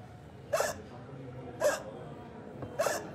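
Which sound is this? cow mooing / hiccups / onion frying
hiccups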